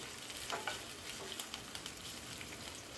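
Chicken and other ingredients for Majestic chicken are stirred in a pan over a low flame, with a faint, steady sizzle and a few light scraping taps from the spoon.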